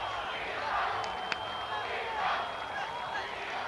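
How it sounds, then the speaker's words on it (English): A large football crowd in the Los Angeles Coliseum at a Canada vs Brazil Gold Cup match chants in a broad, swelling roar, rising and falling in waves with a sharp whistle-like blip, steady and distant. "you can hear the crowd in the Los Angeles Coliseum chanting Dida, Dida."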